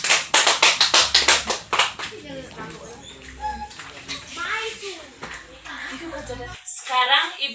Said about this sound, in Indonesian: Tepuk tangan untuk NC dulu.